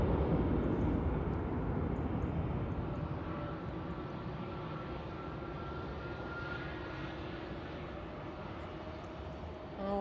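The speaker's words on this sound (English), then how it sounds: "I can see that the Gulf Air is taxiing out towards us now." A Gulf Air airliner taxiing at Manchester Airport gives off a steady, fairly loud engine roar and whine with faint tonal hum, holding constant for the whole stretch with no speech.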